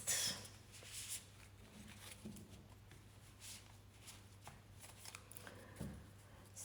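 Tarot cards being shuffled close up, a quiet series of papery riffles and soft flicks with short pauses between bursts.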